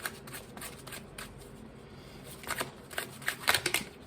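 A deck of tarot cards being shuffled nearby: soft riffling and quick papery flicks, quiet at first and then a cluster of sharper snaps near the end, with no talk.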